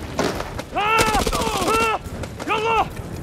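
Gunfire in the horror game House of Ashes, rapid rattling bursts mixed with shouting voices and a tonal, siren-like cry, loud and close throughout.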